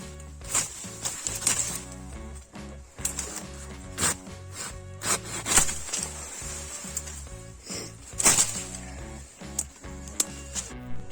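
A garden hand saw cuts through woody stems, giving bursts of rasping strokes in an uneven rhythm with short pauses between cuts, close and fairly loud, with no talk.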